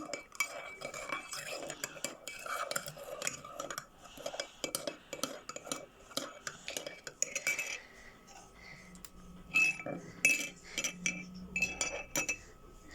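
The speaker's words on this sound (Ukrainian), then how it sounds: "закидаємо ще одну ложечку цукру, тільки вже трошечки кидаємо та закидаємо це вже Тепер перемішкуємо." A spoon stirs sugar into a cup of tea, clinking steadily against the sides with light rhythmic taps and scrapes, close and fairly quiet, with faint kitchen background.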